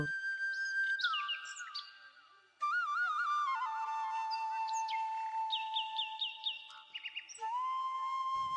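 A cartoon tailorbird chirps in bright, sliding whistled tones and quick trilled notes, clear and continuous with short pauses, and no voices.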